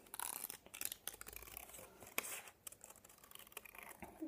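Scissors snip and rasp through organza fabric up close, a series of short crisp cuts and rustles with no one talking.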